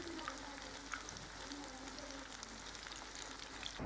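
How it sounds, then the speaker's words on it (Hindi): Chapli kebabs frying in oil over a low flame, a steady close sizzle and crackle with faint popping, continuous and even, with no talking. "हम इसको तकरीबन 7 से 8 मिनट तक फ्राई करेंगे, बिल्कुल लो फ्लेम पे।"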